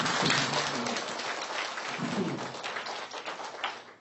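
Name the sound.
audience clapping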